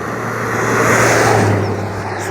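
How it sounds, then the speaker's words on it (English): A tourist vehicle drives along a safari road toward the Masai Mara, its engine rising to a steady, close hum and swelling briefly as it passes, with no talk over it. "that's a tourist vehicle coming"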